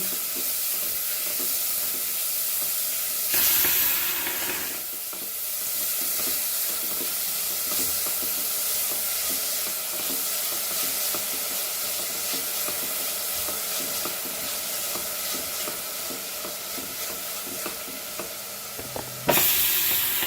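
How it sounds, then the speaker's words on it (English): Vegetables for cabbage rolls sauté in a hot pan with a constant sizzling hiss, with a few brief stirring scrapes breaking in along the way. "We just want to saute all these vegetables."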